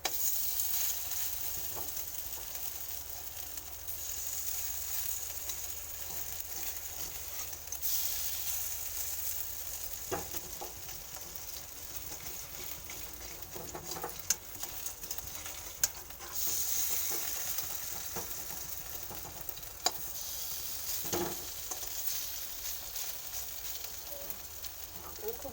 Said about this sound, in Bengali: খুব কম আছে, একটু ভাজা করব। আমি ভালো করে উল্টি ভাজা করব।